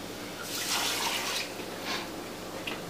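Three cups of water poured into a pot for Puerto Rican arroz con gandules, a steady splashing hiss that swells and eases in a couple of short pulses, close and alone.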